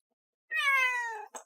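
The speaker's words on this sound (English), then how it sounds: "Kitty." A house cat gives one clear, drawn-out meow, heard close and alone, then a brief second chirp right after.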